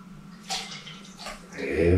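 Calvados is poured into a cocktail shaker, a soft close liquid splash and trickle that swells into a fuller steady pour toward the end, with no talking.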